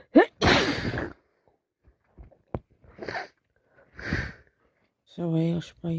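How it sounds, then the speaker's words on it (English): A person builds up to a messy sneeze with sharp inhales and gasps, then releases an explosive burst, followed by further snorting breaths and a short vocal sound at the end. "I need to sneeze."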